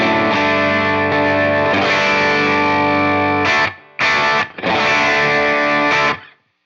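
Electric guitar through an overdrive pedal on a worship pedalboard with an HX Stomp, playing loud, saturated sustained chords with a brief choppy stop-start near the end before ringing out and cutting off.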